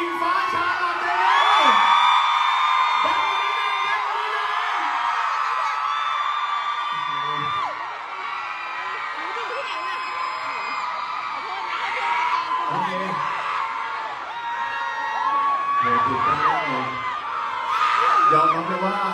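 A dense crowd of fans at a shopping mall fan event, greeting the Miss Grand couple Engfa and Charlotte, screams and cheers continuously at high volume, with shrill whoops rising and falling throughout.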